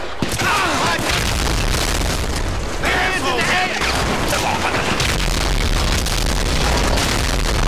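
Dense, continuous barrage of booming blasts and crackling gunfire from grenade launcher explosions in GTA V, loud and chaotic throughout with a voice talking over the din.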